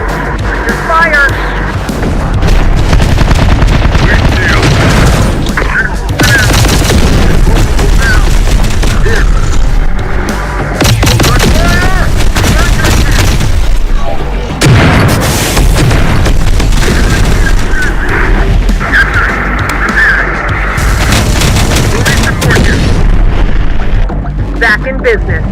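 Loud, dense gunfire and booming explosions from the Terminator Dark Fate Defiance resistance campaign roll on almost nonstop, with heavy low rumble and a few brief lulls.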